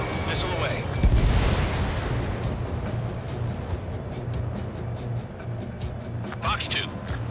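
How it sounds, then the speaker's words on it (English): A missile launch and explosion in the Ace Combat 7 flight game, with a heavy roaring rumble and a sharp hit near the start over a continuous jet-engine drone, under radio-style voices. "Mage 2, missile away."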